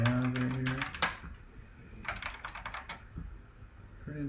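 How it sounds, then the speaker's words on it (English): Rapid clattery typing on an old, plasticky, yellowed vintage computer keyboard, in quick bursts of close keystrokes with brief pauses between them. "Pretty interesting keyboard."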